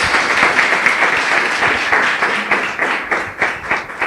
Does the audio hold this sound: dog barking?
no